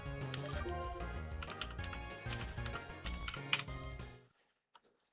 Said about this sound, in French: vous entendez mon clavier, c'est normal